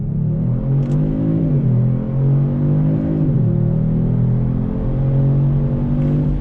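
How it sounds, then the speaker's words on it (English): A 2021 Kia Stinger GT AWD launching from a dead stop, its engine rising in a loud, close roar with pitch climbing and dipping through quick gear shifts, heard from inside the car. "Let's do another acceleration here from a dead stop."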